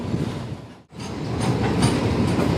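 Shalimar-Porbandar superfast express running between Rajkot and Jamnagar, a steady rumble of wheels and carriages heard close up, broken by a brief sharp dropout before the clatter resumes and builds slightly.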